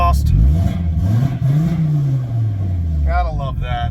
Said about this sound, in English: Even from in the car, this thing has a great sound to it with the new exhaust.